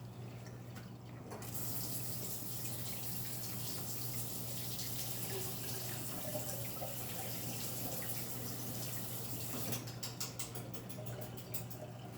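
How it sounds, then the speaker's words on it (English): Tap water runs into a kitchen sink to rinse a fork while baking a rainbow cake, a steady close hiss of flowing water that starts and stops, with faint clinks and a low hum beneath. "then I'm gonna rinse off my fork"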